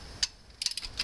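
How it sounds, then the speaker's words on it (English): Torque wrench set to 44 tightening cylinder head bolts during a cylinder head installation after a dropped valve seat: a short run of crisp ratchet clicks, one early and then a quick cluster near the end, close and fairly loud with no talking. "So the torque wrench is set to 44."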